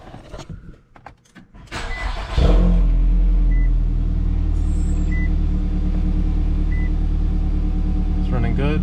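A car engine cranks and fires up after a spark plug change with Autolite Iridium XP plugs at 120k miles, then settles into a loud, steady idle that runs to the end, preceded by some handling noises.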